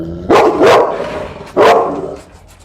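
A dog barks three times up close, two quick barks followed by a pause and then one more, loud and sharp.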